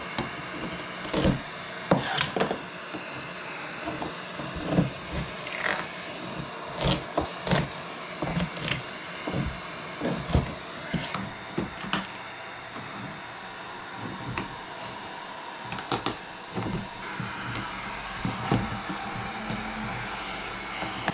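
A patch is being worked off a Royalex canoe hull on an 18-foot Mad River Voyager, with repeated scraping and rubbing strokes and sharp bursts of irregular timing, close by with no talk.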